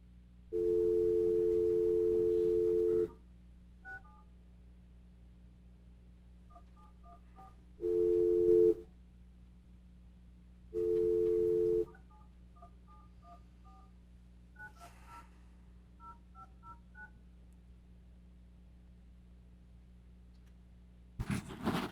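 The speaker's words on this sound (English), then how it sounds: "This is the City of Paramount calling for Alicia Valdez." Ringback tone on an outgoing phone call placed from a city council meeting to a public commenter: steady buzzing tone bursts repeat with long silent gaps, with a few faint short beeps between them and no talk.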